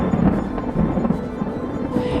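Deep rumbling thunder rolls on without pause, low and heavy with a faint rain-like hiss over it and a brief swell near the end, alone without any voice.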